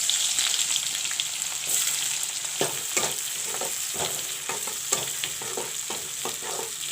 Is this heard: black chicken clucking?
no